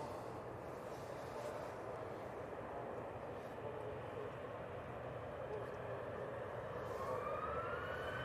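An easyJet Airbus A319 jet departs for Milan from Manchester Airport, its engines a broad, steady roar held at constant loudness throughout, with a faint rising whine toward the end and a voice murmuring beneath.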